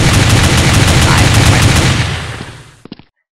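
Rapid automatic rifle fire from the video game Global Strike: a loud, steady stream of shots that fades after about two seconds, ending with a few isolated shots before silence.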